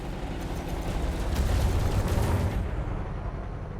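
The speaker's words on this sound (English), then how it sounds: "I did shoot the cannon there." Heavy cannon fire from a spaceship in the space game Elite Dangerous, a dense rumbling barrage of booms that builds and holds loud for a few seconds, then eases off into a lower hum.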